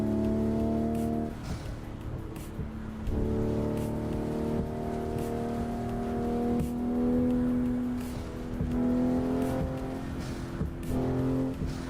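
A racing car in the PC driving game Assetto Corsa, original 2013 version, played on a home-built simulator, its engine revving up repeatedly through gear changes in loud rising whines with brief dips between shifts.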